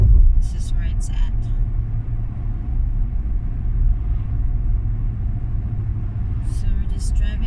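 A car rolling slowly across the long, high Marc Basnight Bridge to Hatteras Island on a foggy morning, a steady low road rumble heard from inside throughout, with brief faint voices near the start and end.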